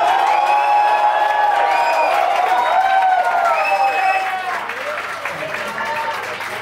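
Studio audience applause on a television music show, steady clapping with some cheering throughout, tapering slightly toward the end.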